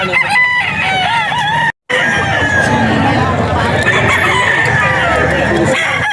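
At a poultry auction market, a rooster crows loudly and close, several drawn-out calls with a brief gap, over a hubbub of background chatter.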